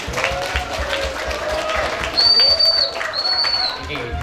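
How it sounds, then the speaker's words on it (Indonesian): An indoor crowd of students at a school orientation week claps for their teachers, a rough ongoing patter that swells briefly midway, with a whistle-like tone over it. "tepuk tangan buat Bapak Ibu guru kita"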